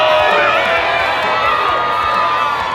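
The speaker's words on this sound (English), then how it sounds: "Don't start cheering for Santi, boys." A loud bar crowd cheers and whoops for the wrestler Santi at a Battle Club Pro wrestling show, a dense, continuous roar with shouting voices throughout.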